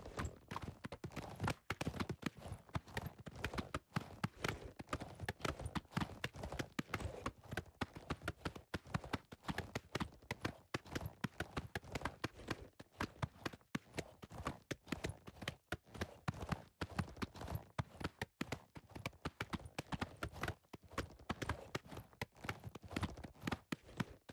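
Shadowmere, a horse in the video game Oblivion Remastered, gallops with a fast, steady clip-clop of hooves that runs loud and close throughout, with no talking over it.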